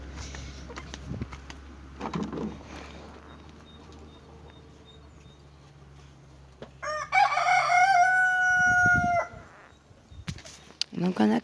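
In a backyard coop a rooster crows once, loud and close, among laying hens clucking softly; a person talks at moments and a car passes in the background.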